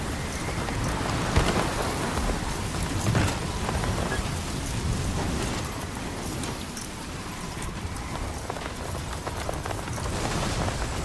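Heavy rain pours steadily in a storm in the video game Death Stranding 2, with a soft roll of thunder in the background, loud and continuous with no one talking.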